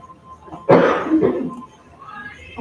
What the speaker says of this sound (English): Excuse me just one moment while I clear my throat for a second.